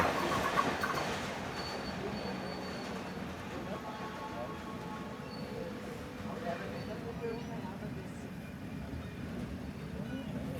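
A train rolls past a station platform in Sri Lanka, a continuous rumble of wheels and railcars with faint rhythmic clatter, while people talk over the noise.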